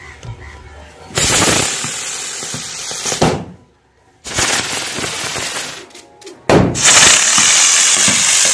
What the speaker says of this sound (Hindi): ये रॉकेट पटाखे है जो कि बॉल को काफ़ी चक्कर घुराती है